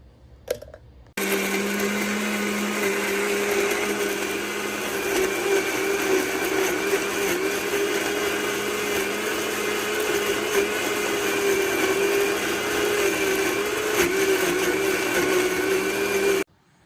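A blender grinds ginger, garlic, green pepper and onion into a puree for salmon steak biryani. Its motor whirs steadily for about fifteen seconds, loud and close, with no talking.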